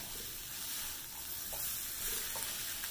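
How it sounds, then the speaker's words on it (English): Tofu hitting hot seasoning in a claypot while cooking a tofu and taro curry, a steady close sizzle and frying hiss with soft stirring scrapes, no talking. "I'm just going to add in my tofu"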